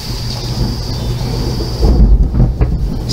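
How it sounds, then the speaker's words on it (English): Thunder rumbling during a storm, a steady low roar that swells louder in the second half with deep booming surges. "We've got a thunderstorm going on."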